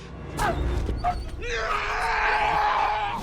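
A dog yelping in short, sharp cries, followed by a longer whining, strained vocalization, close by over a rough background.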